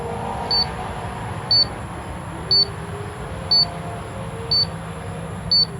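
An oxygen meter alarm beeps six times at a steady one-second rhythm. The short, sharp, high chirps are close by and sit over a low background hum, with no voices.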